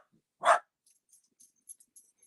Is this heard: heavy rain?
no